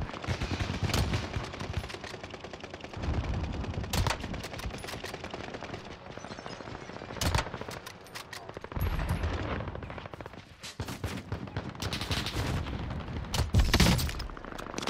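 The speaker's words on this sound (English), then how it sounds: "Taking heavy fire here." Heavy video-game gunfire rattles in dense machine-gun bursts and single cracks, with occasional louder booms, steady and close throughout.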